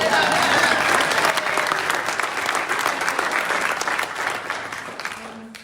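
An audience at a talk bursts into loud applause, dense clapping and cheering close by that slowly thins and fades over several seconds, with no voices over it.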